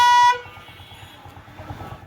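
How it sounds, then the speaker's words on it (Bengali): A motorcycle horn on a bike with a new 12-volt battery gives one loud, short blast at the start, then cuts off to quiet background noise. "হর্নটা দাও তো।"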